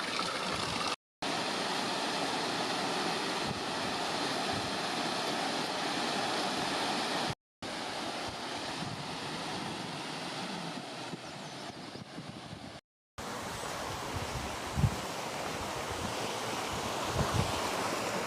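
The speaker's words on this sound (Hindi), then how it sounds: "हमारे लिए पानी भरते हुए नदी से" A mountain river in the Uttarkashi hills of Uttarakhand rushes steadily while water is collected, a continuous loud roar broken by brief cuts.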